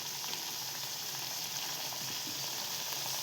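Puris deep-fry in hot oil, a dense, even hiss of bubbling oil that holds steady throughout at moderate volume with no talk.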